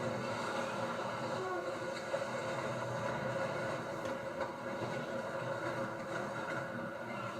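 Train struck by a landslide, a continuous loud rumbling roar of rail cars and rushing debris, dense and unbroken, with no voices.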